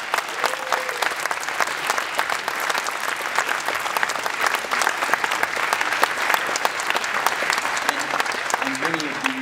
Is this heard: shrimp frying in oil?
no